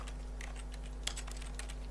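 Computer keyboard keys, including the tilde key, tapped in quick irregular presses, soft and close over a low electrical hum, with one sharper clack in the middle.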